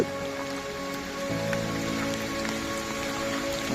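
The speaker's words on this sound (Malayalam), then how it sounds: "നല്ല മഴ" Heavy rain pours steadily on the Konni–Chittar–Seethathodu route in Kerala, a dense, continuous hiss of drops drumming on surfaces nearby, with a faint low hum underneath and no talking.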